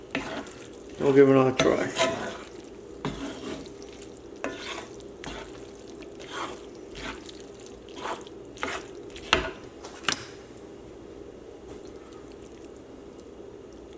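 Spanish-style shrimp and chorizo spaghetti seasoned with pepper is stirred in a pan with scraping, clinking strokes and a soft sizzle, while a voice speaks briefly near the start.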